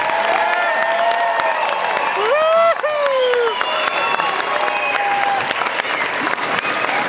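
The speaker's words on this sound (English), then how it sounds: "Please give a big round of applause for all of our 2017 graduates." A gym crowd at a high school honors assembly applauds the 2017 graduates in loud, sustained clapping, with cheers and whoops rising through it and voices mingling in the din.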